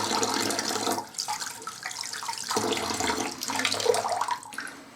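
Water from a running tap splashes and sloshes as hands wet the face before a razor shave, in bursts of close splashing with short pauses between.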